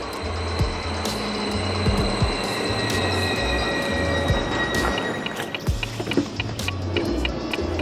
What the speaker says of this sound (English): this is the high-speed train